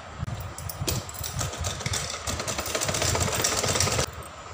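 A domestic sewing machine runs steadily for about three seconds, stitching a curved seam on the base of a small dress for a Kanha ji idol, its rapid motor-and-needle chatter starting and stopping abruptly with no talking.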